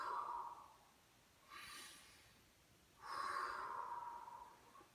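Slow, deliberate breaths drawn in and pushed out through cupped hands during a mindfulness breathing exercise: three soft, close airy rushes separated by quiet gaps.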